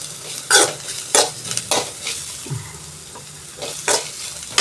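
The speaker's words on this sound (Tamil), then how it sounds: "கொஞ்சோண்டு நல்லெண்ணெயில் அப்படியே வதக்கிக்கிட்டே இருக்கணும்" Ridge gourd peel sautéing in a little sesame oil: a soft, steady sizzle broken by several crisp, close spatula scrapes against the pan at a slow, uneven pace.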